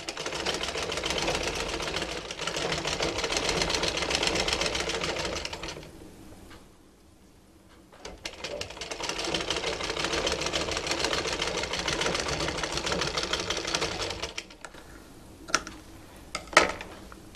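A sewing machine stitches a raglan-sleeve baby frock in rapid, rattling bursts: a long run, a pause, another long run, then a few short taps and clicks at the end, close and clear with no talk.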